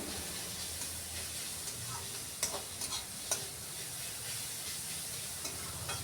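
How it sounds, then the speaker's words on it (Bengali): Chopped onion and ginger with a pinch of salt fry in a pan for spiced chicken drumsticks, a soft, steady sizzle with a few sharp scraping stirs near the middle. "লবণ দিয়েও আরও কিছুক্ষণ ভাজছি এটাকে।"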